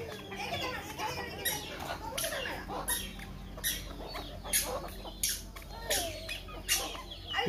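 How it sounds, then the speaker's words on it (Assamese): Domestic chickens cluck and squawk in agitated bursts as a small boy chases them around a house yard with a stick, with scuffling footsteps, clattering taps and faint background voices throughout. "সি সেইদৰে লাঠি লৈ ঘৰৰ মুৰ্গীকেইটাক খেদি লৈ ঘূৰি ফুৰিছে"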